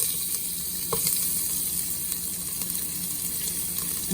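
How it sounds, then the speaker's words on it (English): Onion dropped into hot oil in a pan for chicken tagine, a continuous bright sizzle with a couple of small knocks, close and steady, with no voice over it. "pan is hot, oil is hot, you throw the onion."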